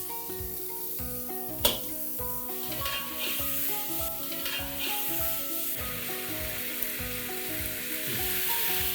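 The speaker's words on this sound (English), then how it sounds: "Now on a high flame, Just saute the meat for at least 3 to 4 minutes." Mutton sautés over a high flame with a steady, close sizzle and occasional stirring scrapes, one sharp clank near the start, while background music plays throughout; nobody speaks.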